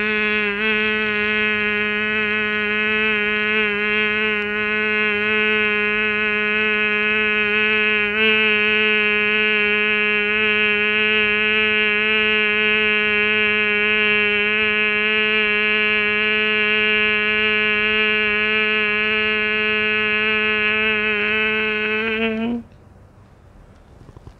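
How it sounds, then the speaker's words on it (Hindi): A steady, resonant bee-like hum is produced by a person exhaling through the nose during Bhramari pranayama breathing, sustained evenly and close for over twenty seconds before stopping abruptly. "सांस छोड़ते समय भंवरे जैसी आवाज़ क्रिएट करना भ्रमर गुंजन करना"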